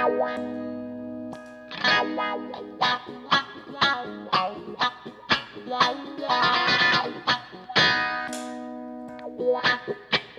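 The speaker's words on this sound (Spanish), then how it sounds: "Se nota que este wah es un poco más medio, este no tanto." An electric guitar plays a clean tone through a wah pedal, a Dunlop Crybaby or a Morley Power Wah, with strummed chords and single notes sweeping through the vocal filter in a loose, rhythmic pattern.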